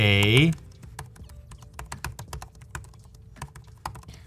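Keys clacking on an HP EliteBook laptop keyboard with recycled-material keycaps, light irregular close taps that follow a brief burst of a voice.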